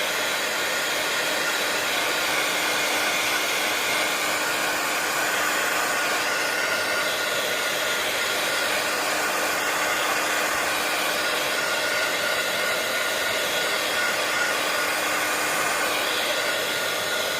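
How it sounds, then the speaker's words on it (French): A hair dryer blows steadily at close range while drying alcohol inks, a continuous even whooshing hum with no breaks or speech throughout. "le séchage va permettre de faire s'évaporer l'alcool qui est dans les encres"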